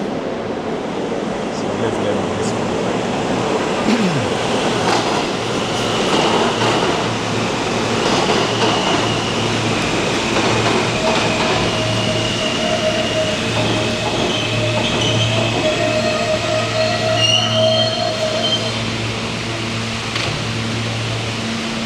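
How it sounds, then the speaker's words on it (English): A Manhattan-bound E express train on the New York subway pulls into the Jamaica–Van Wyck platform, a loud continuous rumble with rising tonal whines and brief wheel squeals. "I think the E, which goes to the Manhattan, is heading onto this platform"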